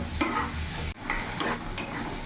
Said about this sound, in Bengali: মিডিয়াম আঁচে মশলাটা ভালোভাবে কষিয়ে নেব।